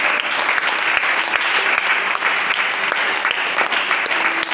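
A church congregation claps steadily and loudly in praise of God, a dense continuous applause held for several seconds without a break.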